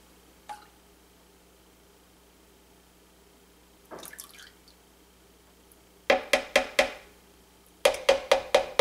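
Lye being added to coconut milk and jasmine rice milk while making handcrafted soap: a faint splash, then two close bursts of quick, repeated dripping and splashing pulses in an otherwise quiet room.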